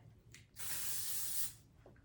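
A single soft, steady spritz of hissing spray lasting about a second, with faint quiet noises before and after.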